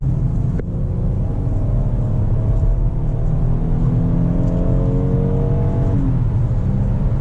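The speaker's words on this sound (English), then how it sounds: "that V6 has plenty of torque, plenty of power and get up, and so it's a quick engine" A 2018 Kia Sorento V6 engine pulls hard and steadily climbs in pitch over several seconds, a loud, close drone with a smooth rising whir before it cuts off.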